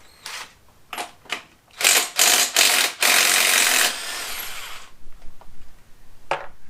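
A power tool rattles in short bursts and then a longer sustained run as it spins off the flywheel nut on a Mercury 115 hp inline six-cylinder outboard motor, loud and close, with clicks and quieter mechanical handling afterward.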